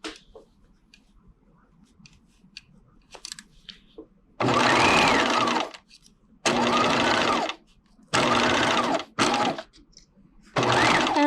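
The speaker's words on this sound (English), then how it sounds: "And I'm going to stitch from one circle to the other. And back stitch, and I'm stitching at 5/8 of an inch." A sewing machine runs a 5/8-inch skirt seam in short bursts, with quick back-and-forth stitching between pauses. Five loud, close runs separated by near silence, with a few faint handling clicks before the first.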